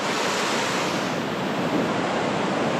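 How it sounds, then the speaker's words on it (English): A gushing mountain waterfall in North Cascades National Park gives off a steady, full roar that stays constant throughout, with no voices. "if that wasn't gushing and that wasn't the biggest depth fall I've ever seen"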